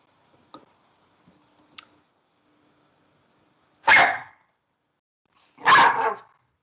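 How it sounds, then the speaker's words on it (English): Two sharp dog barks ring out a couple of seconds apart indoors, after a few faint clicks, with near silence between them and no talking. "You're going to hear my dogs every now and then."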